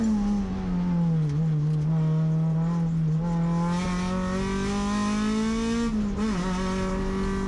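An Acura RSX race car holding fourth gear through a turn at Sonoma Raceway during a touring car race: a loud in-car engine drone, pitch sagging and rising with the throttle, with a brief dip and recovery near the end.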